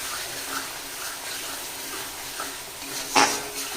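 Ground chili, cumin, coriander and turmeric sautéing with salt for Bengali chicken kosha, a soft steady sizzle under occasional stirring, with one sharp clatter of a spoon against the pan near the end.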